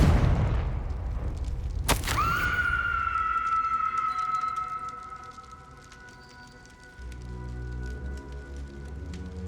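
A Confringo blasting spell goes off in Hogwarts Legacy: one sharp, loud burst near the start, followed by a long ringing magical shimmer that slowly fades over a low ambient rumble.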